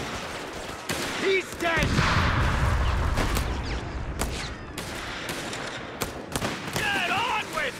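Bursts of rifle and machine-gun fire crackle through a Company of Heroes 3 Italian campaign battle at Agnone, with a heavy rumbling stretch and a shouted soldier's voice over the combat.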